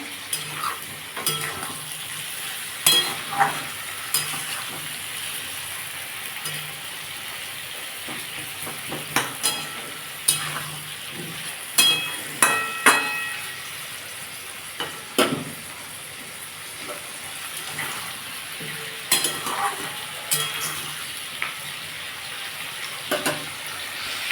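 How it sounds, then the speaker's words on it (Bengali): Potatoes frying in a pan, a low steady sizzle broken by scattered clinks and scrapes of a utensil stirring, close and without speech. "দেখুন বন্ধুরা আমার আলুটা ভাজা হয়ে গেছে"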